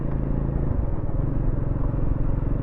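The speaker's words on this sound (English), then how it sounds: "we're chugging along at quite low revs, just over total 2000 in the traffic" A Triumph Scrambler motorcycle engine chugs at low revs, just over 2000, in traffic, a steady close rumble with a rhythmic low throb running continuously and no voices.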